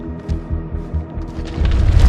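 Gunfire from the House of Ashes video game arrives as a string of rhythmic, deep thumping booms, loud and rumbling, swelling into a heavier low roar toward the end.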